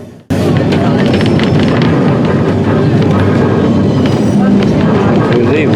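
Manx Electric Railway tram car number 22 pulling out of Ramsey on the Isle of Man, a steady loud rumble of wheels and motor that starts abruptly and runs continuously throughout.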